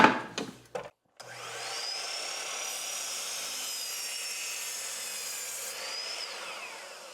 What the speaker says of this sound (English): I'm gonna have to just cut this off right here so it looks like I planned it that way.